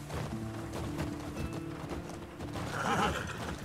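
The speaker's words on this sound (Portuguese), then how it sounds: "o nome do meu cavalo é Vitiligo" Horse in The Last of Us Part II video game, hooves clip-clopping steadily at a quick run with a neigh near the end, moderately quiet game audio without talk.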